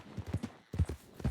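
Horse hooves clip-clopping in a Wild West video game, two short bursts of quick, close hoofbeats with a brief pause between them, no talking.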